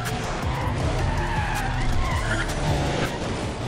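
Lotus car in the racing video game Need for Speed Undercover skids with a loud, sustained tire screech over a roaring engine, continuous throughout.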